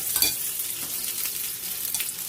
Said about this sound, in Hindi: ऑयल जो है वो हॉट हो गया है, तो अभी हम इसमें इसको डाल के